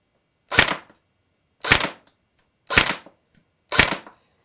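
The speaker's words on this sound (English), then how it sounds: "we're firing at 30 feet to our target." S&T Armament PPSH AEG airsoft SMG firing BBs at a target 30 feet away, four short sharp bursts spaced about a second apart, loud and close with quiet gaps between them.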